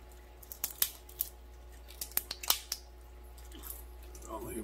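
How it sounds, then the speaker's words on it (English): Kitchen scissors snip through a cooked lobster tail shell in a string of sharp, close crunching cuts with small wet squishes between them, in an otherwise quiet room. "I'll use some scissors."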